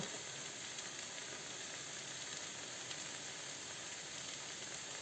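Bay leaves and crushed garlic cloves frying in a pan for borscht, a steady soft sizzle that hisses continuously throughout, faint and even with no talk.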